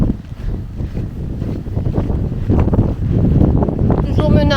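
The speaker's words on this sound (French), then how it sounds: "Il pleut pas et beaucoup de vent." Strong wind buffets the microphone in the Breton countryside, a loud rough rumble throughout, with someone speaking over it.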